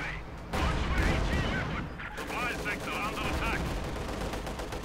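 Machine gun fire in Company of Heroes 2, a 1v1 match between Soviet and OKW armies, with Panther tanks carrying machine guns: continuous crackling bursts and battlefield din under a commentator's voice.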